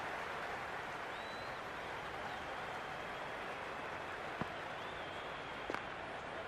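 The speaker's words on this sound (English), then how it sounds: "The crowd is electric right now." A cricket crowd at a T20 World Cup match between Australia and South Africa keeps up a steady, dense roar of cheering and applause, with a couple of faint sharp knocks standing out briefly.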